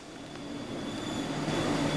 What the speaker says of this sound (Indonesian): kereta api selanjutnya sudah terdengar